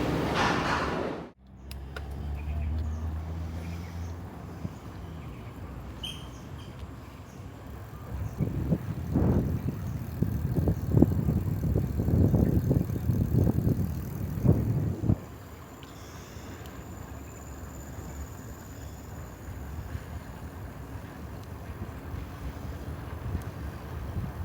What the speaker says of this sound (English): I'm just taking a bike ride